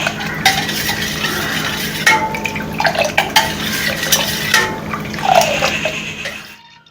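A spoon stirs liquid beetroot squash with added lemon juice in a vessel, giving a steady wet swirling and sloshing with repeated light clinks of metal against the container, close and fairly loud, with no talking.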